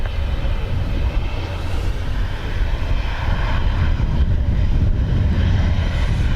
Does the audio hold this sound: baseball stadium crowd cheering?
no